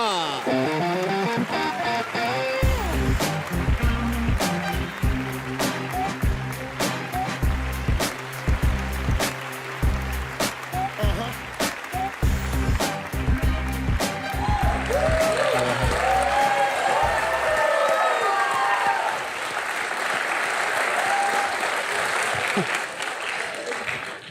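A studio audience on a television talk show gives long, loud, sustained applause welcoming cricketer Suresh Raina, with rhythmic clapping and cheering that fades into a softer wash near the end.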